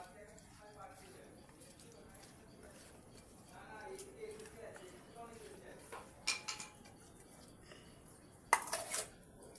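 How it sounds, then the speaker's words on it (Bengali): Cleaned small fish being mixed by hand with salt and turmeric in a bowl, soft wet squelches and light clinks against the bowl, quiet at first then a few louder knocks, with someone talking throughout. "নুন হলুদ মাখিয়ে নিচ্ছি"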